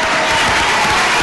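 A short, dense burst of audience applause from a school event crowd, loud and close, filling the brief moment as a solid wash of clapping.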